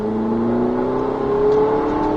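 A Ferrari 488 GTB engine accelerating: a loud, close, steady rising engine drone with no talk over it.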